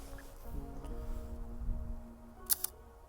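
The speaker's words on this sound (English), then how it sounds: "Cock the shutter, take my first shot." A medium-format film camera loaded with Fomapan 120 film has its shutter cocked and released, heard as two quick close mechanical clicks near the end after a stretch of quiet outdoor ambience with a low hum.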